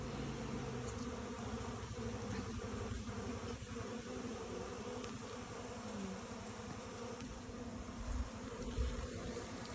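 Honey bees in spring fly in a dense cloud around the hive entrance, a steady loud buzzing drone that fills the whole stretch with no voices.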